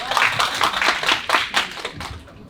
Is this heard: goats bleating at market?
no